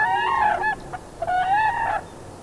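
Two loud, ringing bouts of honking, trumpet-like calling from very tall, snow-white cranes in the marshes of Aransas and Matagorda Island, the crane pair's unison call, heard close and alone with a short pause between bouts.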